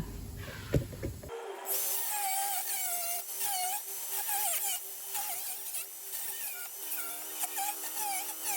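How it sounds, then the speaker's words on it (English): Angle grinder cutting through a rusted anti-roll bar link on a Ford Mondeo, a steady loud whine with wavering pitch that starts after a brief clunk and runs continuously close up. "just cut that off with the angle grinder"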